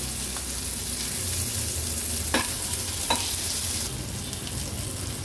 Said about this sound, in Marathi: मीडियम फ्लेमवर उलटपालट करून कंटोळी आपण व्यवस्थित फ्राय करून घेऊया